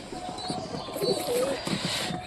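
Pigeons coo and call softly, fairly quiet against background noise, with a voice faintly present.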